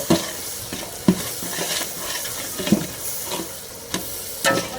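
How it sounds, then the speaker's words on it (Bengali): Spice masala with ginger and garlic paste is stir-fried in a pan for chicken kosha, giving a sizzling hiss broken by repeated scraping spatula strokes in an uneven rhythm, close and fairly loud, with no talking. "মশলাতে আমরা আদা বাটা এবং রসুন বাটাটা দিয়ে দেবো এবং ভালো করে কষে নেবো।"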